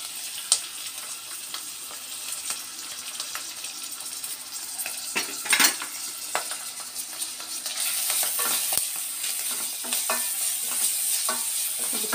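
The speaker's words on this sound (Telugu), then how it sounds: "ఉల్లిపాయ బాగా వేగిపోవాలి" Onions and green chillies sizzle in hot oil in a pan while being stirred, with scraping of a utensil against the pan; the frying grows louder and steadier toward the end.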